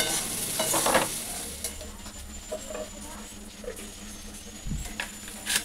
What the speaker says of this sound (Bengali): এখানে শুকনো লঙ্কা দিয়ে ওল কচু সেদ্ধটা মাখিয়ে নেব